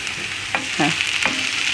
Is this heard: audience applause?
no